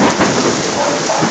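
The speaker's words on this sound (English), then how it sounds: "you can listen to that. That's rain." Heavy rain pouring steadily during a severe Florida thunderstorm, a loud, dense, continuous hiss and patter with deep rumbling underneath, heard close through an opened door with no talking.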